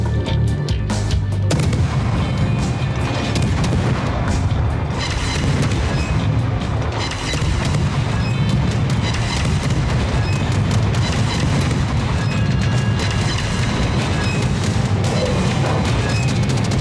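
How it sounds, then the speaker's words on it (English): Anti-aircraft guns aboard the ship Halland in World of Warships fire nonstop, a loud dense barrage of rapid pops and booming bursts that runs without a break. "anti-aircraft gun crews are on normal alert"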